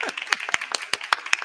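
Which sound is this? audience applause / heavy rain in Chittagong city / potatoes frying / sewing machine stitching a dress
audience applause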